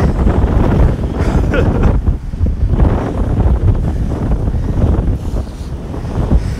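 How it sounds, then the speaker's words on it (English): Wind blowing outdoors on a Lower Manhattan street, strong gusty buffeting roaring steadily and loudly against the microphone throughout. "Gotta get out of this wind."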